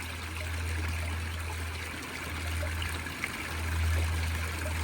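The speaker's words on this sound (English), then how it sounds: "Little water splashing off the sides and in there, but it's all rolling back in." Water from a garden fountain splashes and trickles continuously, a steady close rushing stream with a faint low hum beneath and no talking.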